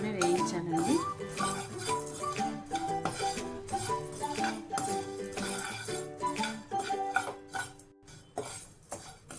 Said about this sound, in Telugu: పసుపు అండి వేయించుకొని, చింతపండు దీంట్లోనే వేయించాలండి.